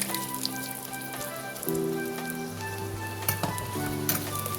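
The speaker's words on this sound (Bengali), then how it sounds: "তেলটা গরম হয়ে গেছে, এবার আমি 2টো শুকনো লঙ্কা ফোড়ন দিয়ে দেব। এবার দিয়ে দেব পেঁয়াজ।" Onion and two dried red chillies frying in hot oil, a bright rain-like sizzle that swells as more goes into the pan, with a few scattered stirring knocks, close and steady without voices.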